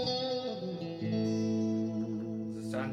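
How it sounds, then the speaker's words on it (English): Sustained Fender Stratocaster notes ring out with a clean, bright single-coil tone and no gain, one chord shifting to another and sustaining, with a slight chorus-like shimmer. "It's a sound you can only get out of the Strat."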